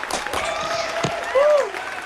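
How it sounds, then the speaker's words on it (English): Studio audience at a game show gives a brief round of applause, a steady spread of clapping close to the mic with a whistle-like tone rising near the end. "So how about a big hand for Steve Kolborowski and John Bergman?"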